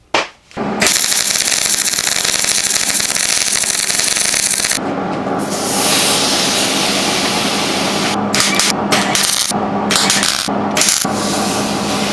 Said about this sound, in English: It's time to weld this stuff together.